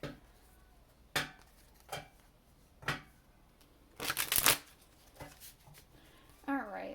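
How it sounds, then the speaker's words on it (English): Rider-Waite tarot cards being shuffled by hand in sharp riffling bursts, several quick ones then a longer flurry, close and fairly quiet with brief talk near the end. "So let's go ahead and shuffle this up real quick."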